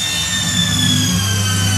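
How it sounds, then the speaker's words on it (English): Steady high-pitched whirring like a dentist's drill, continuous and loud, with an even whine held over a low rumble and no pauses. "That sounds like the dentist drill, doesn't it?"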